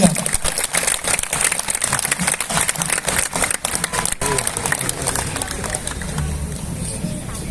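A large concert crowd applauds an orchestra after a Beethoven symphony, with dense, steady clapping and hubbub sustained throughout, close and loud.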